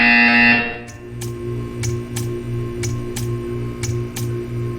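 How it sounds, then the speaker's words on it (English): A buzzer from the video game Portal 2 sounds in a long tone, then gives way to a series of sharp, evenly spaced clicks over a low electronic hum. "You will hear a buzzer. When you hear the buzzer, stare at the art."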